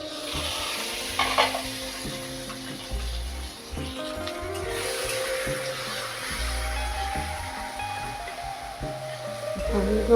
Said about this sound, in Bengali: দিয়ে দিচ্ছি রসুন কুচি আদা কুচনো লঙ্কা টমেটো কুচি